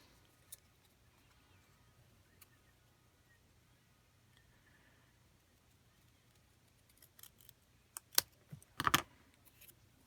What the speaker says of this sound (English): let me grab my tiny fussy cutting scissors and see if we can do a little cutting here